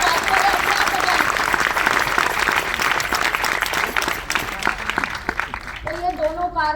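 An audience at a women's leadership event claps loudly and continuously with a lively, dense patter of many hands, while a voice speaks over the applause toward the end.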